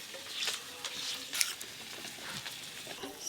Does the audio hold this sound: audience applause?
no